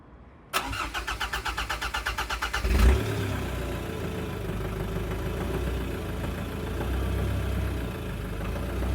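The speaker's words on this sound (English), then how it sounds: "in theory it should start, but because we've obviously drained most of the fuel out of the system, it probably won't start straight away" Ford Ranger T6 with its fuel system mostly drained: a loud, close starter motor cranks rapidly for about two seconds, then the engine catches and settles into a steady idle with a slight rise late on.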